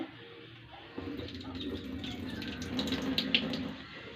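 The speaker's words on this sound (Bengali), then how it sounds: "এই যে মসুর ডাল ধুয়ে নিলাম" Red lentils being rinsed under a running kitchen tap, a steady close rush of water with soft swishing and splashing that builds slightly toward the end.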